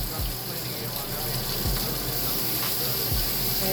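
Kitchen tap water running while gravy is being made, a steady continuous gush with a few low thumps beneath, close and even throughout.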